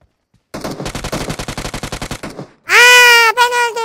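Rapid automatic gunfire from PUBG Mobile rattles off in a fast, even burst of about twenty shots, then a loud high-pitched childlike voice cuts in right after.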